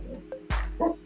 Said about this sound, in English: Even the dog is upset. You hear him.